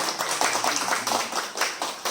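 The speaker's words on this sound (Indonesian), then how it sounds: "Tepuk tangan ya." Audience clapping at a product presentation for Firmax3 and O2Max, a dense patter of hands filling the room for about two seconds at steady, moderate loudness.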